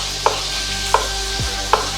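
A knife cutting an avocado on a chopping board in a home kitchen: three crisp, evenly spaced taps against a steady background hum, with no talking.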